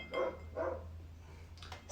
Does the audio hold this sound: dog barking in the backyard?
yes